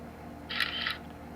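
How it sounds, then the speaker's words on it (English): A camera shutter sound from screen capture software, one short bright synthetic click-and-whir burst in the middle of a faint, steady background hum. "every time you hear that shutter sound, it means it took a picture"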